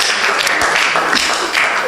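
A church congregation claps steadily, a dense, loud wash of applause filling the whole moment with no break.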